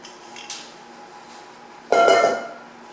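Apple pie filling is scraped out of a deep-dish bowl with a utensil: a light clink, then a louder rasping scrape with a ringing metallic edge, fairly close and without talking.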